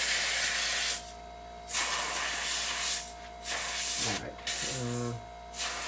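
Airbrush guns sprayed out for cleaning, giving several loud bursts of airy hiss, each roughly half a second to a second long, separated by quieter stretches of steady background hum.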